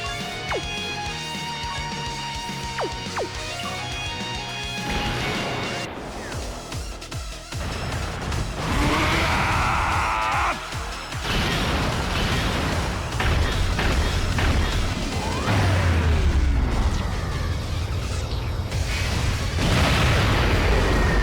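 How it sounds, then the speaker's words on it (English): A planet-destroying explosion in the video game Dokkan Battle, a long loud roaring blast with rumbling bursts and crashing layers swelling over game music, building to a heavier low rumble toward the end. "we destroyed the planet"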